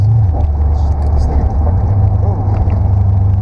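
A roofless VetteCart open-top car driving along, its engine a steady loud low rumble with wind noise over the open cabin, continuous and close.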